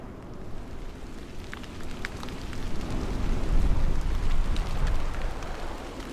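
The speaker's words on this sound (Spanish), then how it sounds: "La llovizna se convirtió en lluvia" Steady rain falls, a dense close hiss and patter that swells slightly toward the middle and then eases, with no voices.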